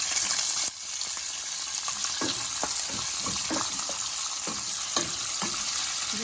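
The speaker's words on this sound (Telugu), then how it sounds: "ఇప్పుడు కొంచెం కరివేపాకు వేసి ఉల్లిపాయలు పచ్చిమిరపకాయలు వేసేద్దాం" Onions, green chillies and curry leaves frying in hot oil for a mushroom fry, a loud continuous sizzle with a sharp surge at the start and intermittent stirring scrapes over it, close to the pan.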